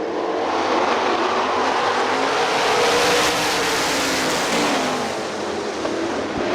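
Sprint race cars roar together at the start of an eight-lap heat at Hartford Speedway, a loud, sustained engine howl that swells as the seven-car pack accelerates past, then eases slightly.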